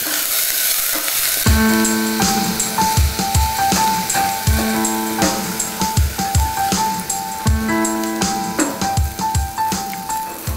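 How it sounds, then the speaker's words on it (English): Half an onion and a stalk of celery sautéing in a pan, a loud close sizzle with repeated rhythmic stirring scrapes and clinks over several seconds. "I'm going to add to that half an onion, a stalk of celery, and I'm just going to saute it for a few minutes"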